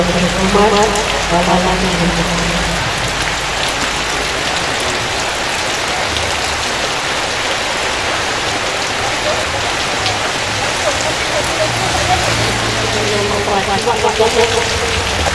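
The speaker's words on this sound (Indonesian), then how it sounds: "walaupun dalam keadaan hujan" Heavy rain pours steadily onto surfaces nearby, a dense, even hiss and patter that stays loud and unbroken throughout, with faint voices in the background.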